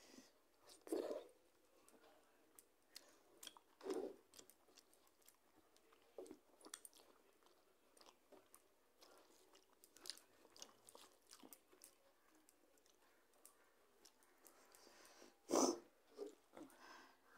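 Close, quiet chewing of food at an eating show, with a meal of gota sidho, panta rice, fried items and chutney, soft crunchy bites at irregular intervals and occasional breathing.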